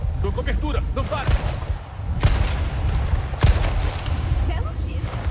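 Gunshots in Resident Evil 4 Remake ring out amid game sound, a few sharp bursts standing out over a busy mix with voices speaking throughout.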